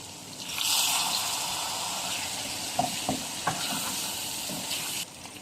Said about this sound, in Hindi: और थोड़ा सा इसमें पानी डाल देंगे, 1 से 2 टेबल स्पून।